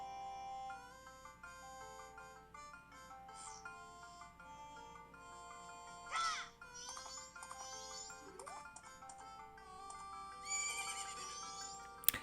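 A horse neighs and whinnies several times in Zelda: Majora's Mask 3D. The calls are set against soft, melodic game music with light clip-clop, and there is no talking.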